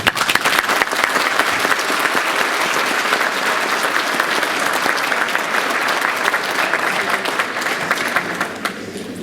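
An audience at a law diploma course session gives a speaker a loud, sustained round of applause, with dense clapping that holds steady and then tapers off near the end.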